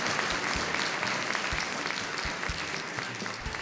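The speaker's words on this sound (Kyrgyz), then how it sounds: "бир Бомпоштун маанайын көтөрүп бир кол чаап койлу" An audience claps in a steady, dense round of applause for Bomposh at a book presentation event, continuous and fairly close throughout.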